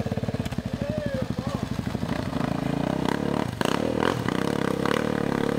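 Yamaha Tenere motorcycle riding through a swamp bog hole: a steady engine drone with rapid pulsing at first, then rising revs mixed with clattering and scraping, loud and close, with some talk over it.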